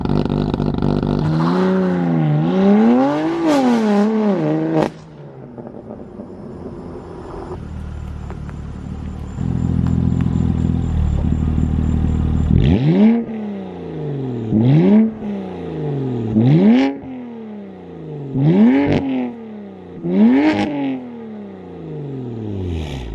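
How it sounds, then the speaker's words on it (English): A BMW F80 M3 revs up with launch control, then pulls away hard: loud close engine roar climbing through several rising gear sweeps, a brief lull with a low idle rumble, then repeated sharp accelerating bursts. "As you guys saw, the car launched like crazy."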